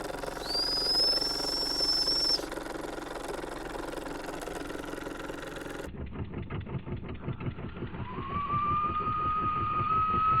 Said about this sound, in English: Give a little whistle blow.